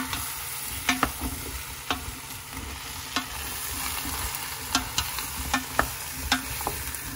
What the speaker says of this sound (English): I'm tossing the zucchinis just to brown them a little bit